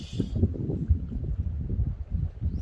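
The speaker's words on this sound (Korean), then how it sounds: "바람 많이 부네" Strong wind buffeting a fishing boat at sea, a steady low rumbling roar of gusts across the microphone with no talking.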